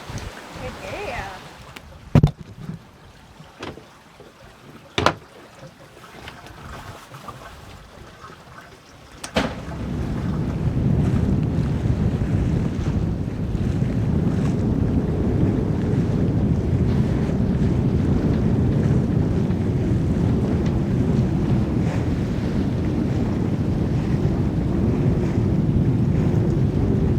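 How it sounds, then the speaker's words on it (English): Strong wind roars across a sailboat at sea, starting with quiet creaks and knocks before gusting in abruptly and holding as a loud, steady rush for the rest of the clip, with voices faintly underneath. "here comes the wind"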